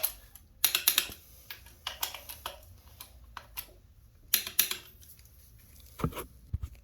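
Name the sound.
torque wrench tightening bolt to 35 foot-pounds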